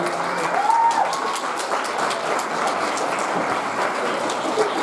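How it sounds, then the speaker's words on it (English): Wedding reception guests applaud in a steady, moderately loud round of clapping that runs throughout, with crowd murmur and a brief tonal whistle or voice near the start. "One more round of applause for the mother of the groom."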